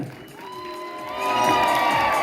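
A crowd of students at Atharva College of Commerce cheers and shouts with some clapping, the noise swelling louder after about a second and holding close and lively.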